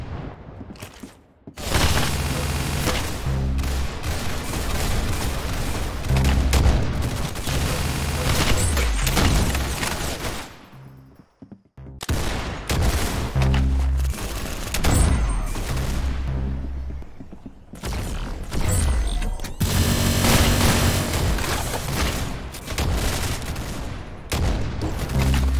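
Dense bursts of rapid gunfire from the Roblox shooter game Arsenal, loud and continuous in long stretches broken by a brief lull near the middle, with heavy booming shots layered in.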